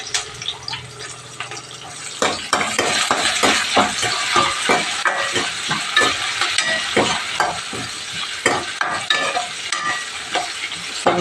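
Green chillies and curry leaves fry in a pan with a continuous close sizzle, punctuated by rhythmic scraping and stirring strokes that repeat roughly every half second; no voices are heard.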